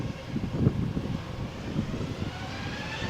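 Ryanair jet rolling for takeoff on runway 13 at Malaga Airport on a stormy morning, a steady distant engine roar with low rumbling buffeting, no voices.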